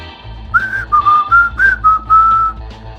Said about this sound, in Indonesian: Dari mulutnya terus-menerus membesit siulan lagu tak menentu.